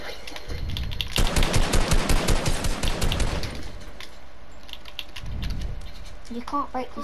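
Rapid automatic gunfire in a Fortnite-style build battle rattles hard and fast for about two and a half seconds, then trails off into quieter scattered game noise and a low thump, with a voice talking over parts of it.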